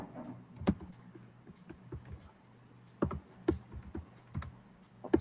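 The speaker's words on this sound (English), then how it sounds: "Sorry, I forgot to mute my typing." Computer keyboard keys clatter in quick irregular bursts of typing during an online writing session, close and moderately loud over a quiet background, with scattered pauses between runs of keystrokes.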